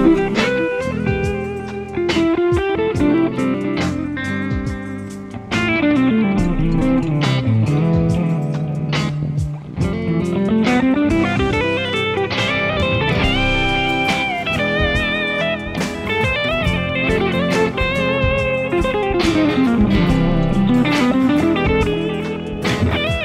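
Electric guitar improvising with major scale notes only over a full backing track, fast melodic runs sweeping up and down, loud and continuous with drums and bass underneath.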